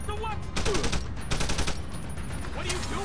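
Several sharp gunshots in Deus Ex 3 against an armored enemy, close cracks spaced across a couple of seconds amid game noise, with faint speech mixed in.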